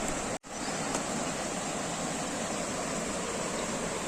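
Swollen river rushing near the Furus village bridge in Konkan during heavy monsoon rain, its water level risen high; a steady, loud, unbroken wash of water noise with one brief dropout near the start.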